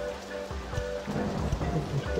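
Steady rainfall in the Roller Coaster Tycoon 2 game, a continuous patter of drops on surfaces at moderate loudness with no voices over it.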